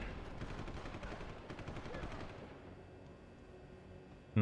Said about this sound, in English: A lot of guns firing.